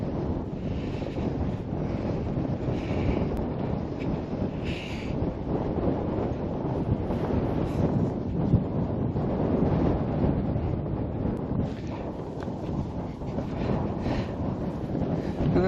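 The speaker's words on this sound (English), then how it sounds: "and it is very windy." Strong wind buffets the microphone in a constant low roar, gusting slightly louder and softer over a long stretch.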